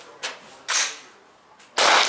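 Target pistol firing wadcutter rounds at a shooting range: three sharp, loud reports spaced unevenly, each with a brief ringing tail, with no talking between them.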